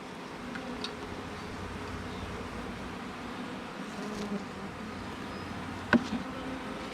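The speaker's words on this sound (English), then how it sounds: "I hear them fanning at the entrance, which is down on the other side." A small swarm of honey bees fans at a hive entrance, making a faint, steady insect hum with occasional nearer buzzing as single bees fly past, and one brief tap.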